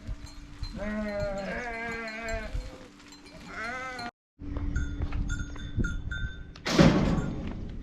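Several sheep bleat in wavering, overlapping calls over a busy highland pasture farmyard at sunrise, with a brief silence and a loud rustling thump near the end.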